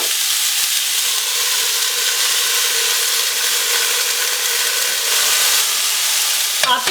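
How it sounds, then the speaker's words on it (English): Potato and cauliflower for aloo gobi cook in a pan with a steady, loud, even hiss of frying and steam that holds unbroken almost to the end, where a short rattle cuts in. "Now I'll cover the pan and cook them till they become soft"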